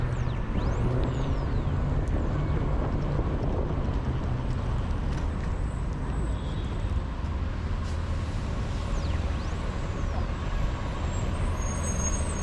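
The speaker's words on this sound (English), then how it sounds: "Buses. I love public transport." City buses and heavy traffic on a Los Angeles street, a loud continuous low engine rumble with air-brake hisses and squeals, close by and steady, no voices over it.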